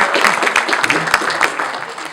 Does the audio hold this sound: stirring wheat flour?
no